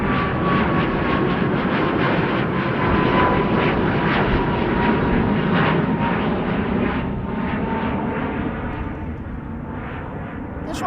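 A departing airliner at Amsterdam Schiphol roars loud and close, its engine noise holding steady and then slowly fading as the plane climbs away, with no talk.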